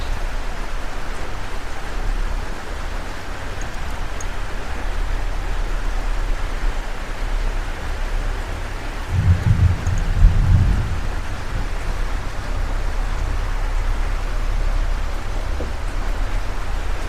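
Heavy rain pours steadily on a campsite at night, a dense hiss throughout, while a deep roll of thunder rumbles briefly partway through.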